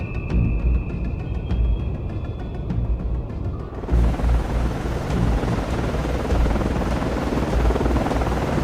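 An aircraft drones loudly and steadily in the Cold Waters naval game, a low, rumbling rotor-like roar that continues throughout, growing broader and noisier partway through.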